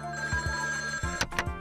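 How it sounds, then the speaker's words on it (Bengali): A telephone rings in a house: a steady electronic ringing tone that ends in two sharp, loud bell bursts close together, heard near and alone. "তোমার মাঝি আবার ফোন করছে।"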